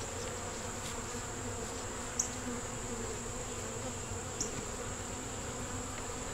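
Honey bees drone steadily around open hive frames holding brood, honey and a queen, a dense close buzzing that stays even throughout with a couple of brief louder passes.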